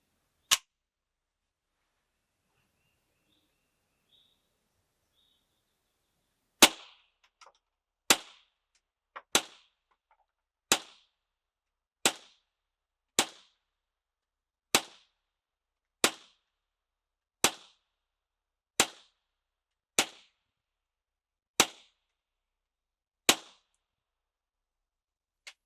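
Suppressed .22 rifle shots through an NLS 22 Varmint suppressor: a lone crack, then a steady string of about thirteen sharp, evenly spaced reports roughly one to two seconds apart, each dying quickly into silence.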